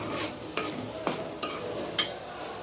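Cumin, garlic and ginger paste being stirred into a fish masala in a pan, a soft continuous sizzle broken by about five distinct scraping strokes of a spoon, close and quiet.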